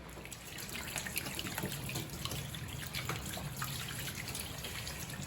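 Running tap water rinsing blood off a freshly filleted eel, a steady close splashing stream with small drips and gurgles throughout, no voices.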